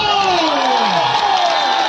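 A loud crowd at the Rupsa festival comedy show cheers and whoops, a dense continuous roar of voices filling the whole moment.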